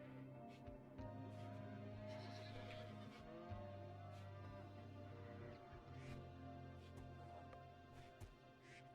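A horse whinnies in the colony-building game RimWorld, a moderately clear neigh over steady, layered game music and ambience.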